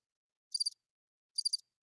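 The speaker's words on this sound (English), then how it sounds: "Crickets?" Crickets chirping in two short, faint trilled bursts separated by silence, each a quick pulse of three or four high chirps.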